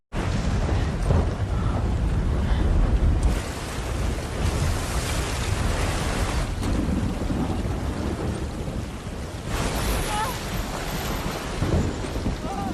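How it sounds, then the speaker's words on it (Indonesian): Storm at sea tossing a sailing boat, with crashing waves, wind and heavy rain roaring continuously and loudly, surging in waves of broadband noise with deep rumbles throughout, no voices. "Kapal si Jess pun terombang-ambing oleh dahsyatnya ombak lautan."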